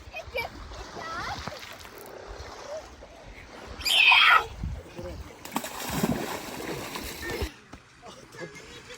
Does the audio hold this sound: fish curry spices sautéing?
no